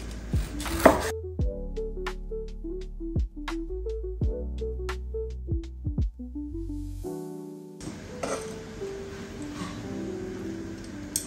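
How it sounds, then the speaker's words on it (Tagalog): Knife chopping crispy fried pork belly on a board, a dozen sharp evenly spaced chops close up, followed by a softer scraping shuffle at the end. "Chopin na natin yung ating lechong kawali"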